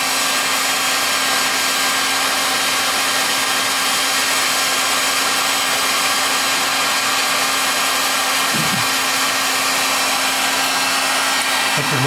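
A heat gun blows steadily to shrink heat-shrink tubing over wiring for a frame, a constant loud whooshing hum with a low tonal whine, close and unbroken, no talk.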